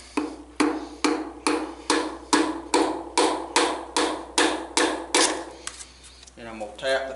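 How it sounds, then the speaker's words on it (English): A hammer taps a piston into an engine cylinder about a dozen times in a steady, even rhythm, each strike ringing briefly, close by, ending with a few softer knocks. "Then I'm going to take my hammer."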